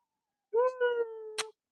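House cat meowing once, a clear drawn-out meow close by, ending with a short sharp noise.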